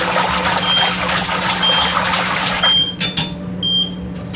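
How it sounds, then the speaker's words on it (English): A kitchen timer beeps while pizza dough is being made, giving short thin electronic chirps, four of them spaced about a second apart, clear above a steady background hum of the kitchen. "So our timer goes off."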